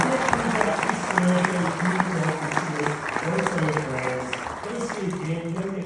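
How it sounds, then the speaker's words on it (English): A cinema audience at a horror film Q&A applauds steadily throughout, the dense clapping running under a voice that keeps talking over it. "So please give Sean Byrne a big round of applause."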